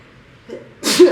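A single loud, close human sneeze bursts out after a faint intake of breath, short and sharp.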